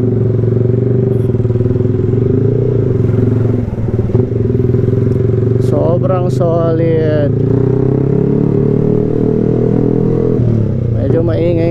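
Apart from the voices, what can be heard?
Yamaha R15 v3 motorcycle with open exhaust pipe riding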